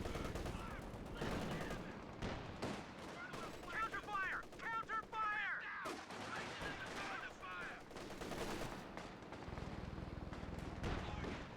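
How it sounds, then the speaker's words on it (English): Rifle fire and M20 gunfire in a competitive real-time strategy video game match, heard as dense, continuous crackling bursts of shots layered over game effects, with no clear pauses. "Kubo gets killed here by the M20, I guess, in combination with the rifles"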